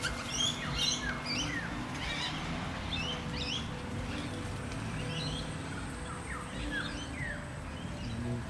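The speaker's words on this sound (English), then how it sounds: "These birds usually scare me." Birds at a bird sanctuary chirp and tweet in scattered bursts over a steady background rumble, moderately distant calls repeating irregularly throughout.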